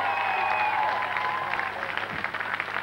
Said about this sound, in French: applaudir, ça leur fera plaisir.